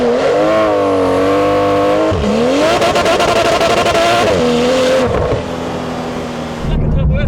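Porsche 991 GT2 RS and twin-turbo 992 GT3 RS sports cars race from a standstill, loud engine revving and rising through gears with a brief tire squeal, while excited voices talk over the engine noise.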